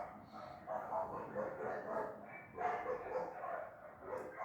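A pack of dogs barking in a jungle setting, overlapping barks and yips at a moderate distance, continuing throughout beneath a person talking.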